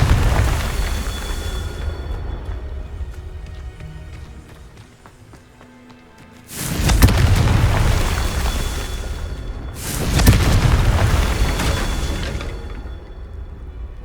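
Two loud, broadband spell explosions from Confringo in the Hogwarts Legacy video game burst out about three seconds apart, each blast decaying into a rumbling roar over a busy bed of game combat sound.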